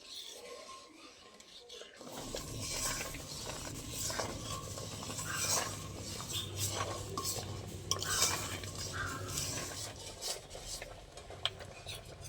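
A spoon stirs and scrapes through boiling milk in a pot while making phirni, a steady close-up rasp of metal on the pot that carries on without a break under a low bubbling simmer.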